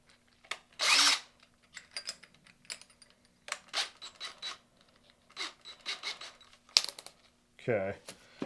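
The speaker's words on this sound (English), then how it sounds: "we got to take this to the old belt sander" A belt sander grinds an axe head in an axe shop, heard in short, separate bursts of harsh abrasive whirring mixed with scraping and handling clatter, with quiet gaps between passes.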